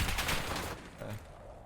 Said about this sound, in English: There's people shooting to the right.